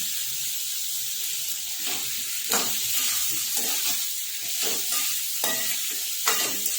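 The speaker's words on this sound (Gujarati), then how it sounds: "અહીંયા એક કપ લીધો છે મેં અહીંયા બીજો કપ એટલે બે કપ પાણી એડ કર્યું છે" Two cups of water pour into a hot pot of spiced potatoes with a continuous hissing sizzle, broken by occasional clinks and stirring sounds.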